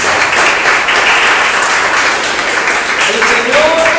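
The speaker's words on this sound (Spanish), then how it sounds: "Denle un aplauso al Señor." A congregation applauds during a church sermon, loud sustained clapping filling the space with a steady wash of hands.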